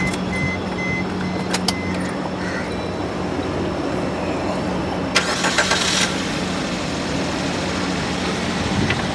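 A used car's engine cranks and catches near the midpoint, then settles into a steady idle, with a few faint clicks before it starts.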